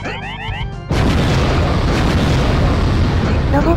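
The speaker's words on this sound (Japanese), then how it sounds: "ロボットの爆発音、" A robot in the Toy Story 3.exe game blows up with a sudden loud blast after a brief electronic jingle, followed by a sustained roaring rumble that fills the rest of the moment.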